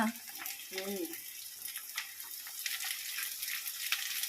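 Pumpkin pieces frying in hot oil give a steady soft sizzle and crackle throughout, with brief stirring noises and a voice speaking over it.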